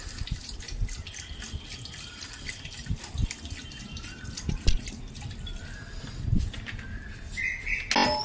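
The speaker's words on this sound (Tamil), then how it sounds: "இப்போ நம்ம வந்து அளவு தண்ணியிலே இருக்கிற தண்ணியை வந்து ஊற்றி நல்லா ஒரு கொஞ்சம் வேக விடுவோம்." Water being poured into a pot of simmering veg parotta salna, a splashy trickling pour with drips that carries on steadily at close range, with no talk over it.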